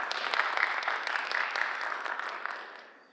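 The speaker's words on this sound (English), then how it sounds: "Please have a nice round of applause for Representative Schreiber." A seated audience at a public panel on vaping gives a warm round of applause, loud and dense clapping that holds steady for a few seconds and then fades out toward the end.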